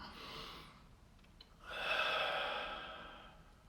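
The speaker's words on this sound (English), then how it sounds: "3 deep breaths in and out." Two deep, slow breaths drawn in and let out during a group root chakra meditation, each a soft, airy rush lasting a second or two, close and gentle, with no talking.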